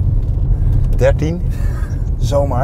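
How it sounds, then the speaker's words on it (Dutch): An Audi 100 2.2 five-cylinder with automatic gearbox idles with a steady low rumble beneath the cabin while people talk briefly over it. "klinkt nog best goed, zo'n vijfcilindertje"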